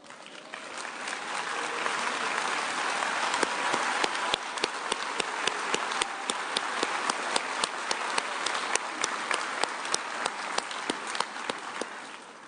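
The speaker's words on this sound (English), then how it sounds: "please stand up so we can give you a round of applause" A commencement crowd applauds first-generation graduates as they stand, dense sustained clapping filling a large hall, moderately distant, with sharper individual claps standing out near the front.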